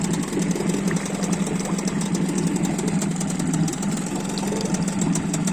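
A Hidea 6 two-stroke outboard motor idles steadily on its first run, a close, even mechanical drone with a fast rattling pulse that holds constant throughout, with no talking.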